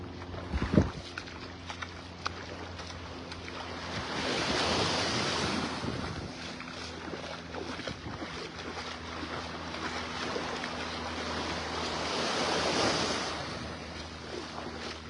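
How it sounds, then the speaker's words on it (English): Small ocean waves washing ashore on Vanderbilt Beach in North Naples, Florida, soft surf swelling and receding twice amid steady wind noise on the microphone. "Some little waves."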